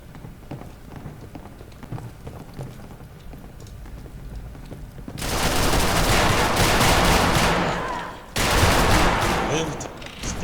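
Gunfire in Fallout 4 erupts after a quieter stretch, dense rapid bursts of shots and automatic fire, loud and close, briefly cutting out before resuming.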